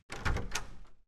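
A door in the Silent Hill 4: The Room video game, heard as a single muffled thud followed by a brief rattle, fairly quiet and standing alone without talk.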